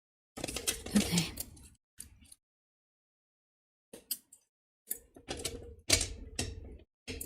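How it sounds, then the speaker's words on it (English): Tarot cards being shuffled by hand, heard as scattered crisp riffling and slapping bursts with gaps of silence between them, close and moderately loud. "let's get a good shuffle here"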